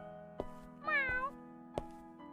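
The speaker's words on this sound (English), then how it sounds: "A kitten was crossing the street from the other side." A kitten gives one clear, drawn-out meow against a steady low hum, with a few sharp knocks before and after it.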